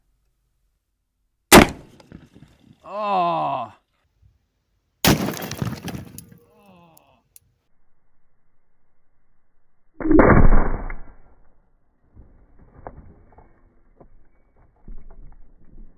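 A .50 BMG SLAP round is fired at a cylinder head behind ballistic glass. Two sharp, loud gunshot blasts ring out with ringing tails, then a harsher shattering impact. Scattered clatter and an exclaimed voice follow.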